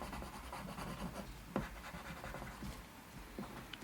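Pencil scratching across paper while drawing 3D lettering, close and quiet, with continuous strokes and a few sharper scrapes.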